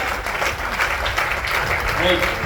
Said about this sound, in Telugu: లీడర్స్ కోసం గ్రేట్ క్లాప్స్ ఇద్దాం